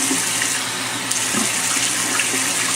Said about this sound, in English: I'm going to start off every morning with splashing my face with water